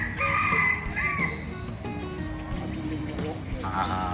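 Jungle fowl crow in the grounds of a Buddhist temple at Wat Khao Wang in Ratchaburi, several drawn-out crows rising over a busy outdoor background, with someone talking over them.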